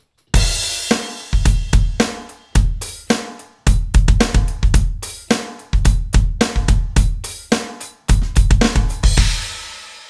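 A drum kit plays a steady groove, with sharp hi-hat strokes and bass drum kicks falling between them in a repeating, punchy pattern, loud and close with no talking.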